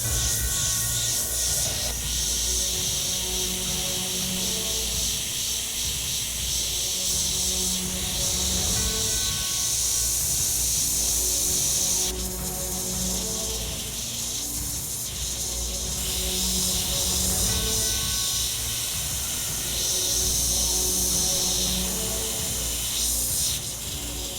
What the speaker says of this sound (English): Going to use Scarlet, airbrush a little bit of red in there.